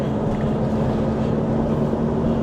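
An Isuzu D-Max SL pickup cruises in fourth gear, its engine a steady, loud low drone blended with road and wind rumble from inside the cab, unbroken throughout.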